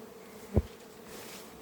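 Honeybees crowd the entrance of a hive, some dropping to the ground. A soft, steady buzzing hangs close by, broken by one brief dull bump early on.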